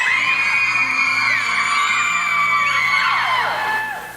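A live church audience at a talk by Rev Jen Tringale screams, whoops and cheers loudly and continuously, a shrill crowd roar that fades slightly at the end.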